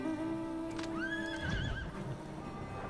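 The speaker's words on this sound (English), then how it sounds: "Now I'm taking my horsey." A horse mount in Final Fantasy XIV whinnies in a loud, drawn-out neigh, followed by a brief patter of hooves, with no talking.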